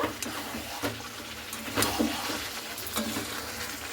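Chicken coated in Kashmiri chili powder stirred in a pan, a soft continuous sizzle with a few sharp scraping strokes of the spoon at irregular intervals, close and moderately quiet.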